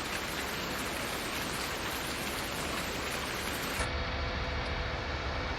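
Steady rain from Farming Simulator 19, a dense, even hiss that fills the whole clip at a constant level with no voices over it; its upper wash suddenly cuts away near the end while the low rumble carries on.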